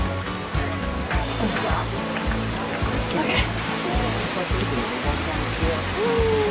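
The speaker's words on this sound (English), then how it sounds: "We're behind a waterfall." Heavy rushing water pours down close by, heard from behind a waterfall at Silver Falls State Park, a dense continuous roar with a few rhythmic low thumps and brief faint sounds over it.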